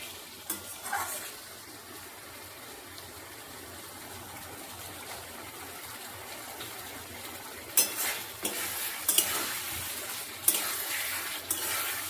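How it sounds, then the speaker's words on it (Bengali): Spice paste with softened tomato and potato fried and stirred in a pan for a thin tilapia fish curry, a low steady sizzle with occasional louder scraping stirs toward the end. "মশলাটা টমেটোটা আলুর সঙ্গে ভালো করে কষানো হয়ে গেছে"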